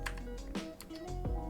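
Python code being typed on a computer keyboard in a quick, uneven run of soft key clicks, close and fairly quiet, with no talking.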